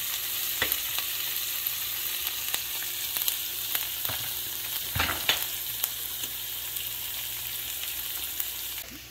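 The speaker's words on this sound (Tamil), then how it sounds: "இதை தாளித்து பொதியட்டும், நிறம் மாறட்டும், வெங்காயங்கள் பொன்னிறத்தில் வரட்டும்" Onions and spices frying in a pan for tempering a Jaffna-style green tomato milk curry, a steady soft sizzle with occasional stirring scrapes and small pops, quiet and close, no voices.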